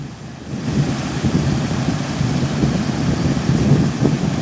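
Floodwater spills over the Tempe Town Lake dam in a loud, continuous rushing roar, steady and broadband, with wind buffeting the microphone.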